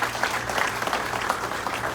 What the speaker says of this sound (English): So how about a round of applause for Dennis?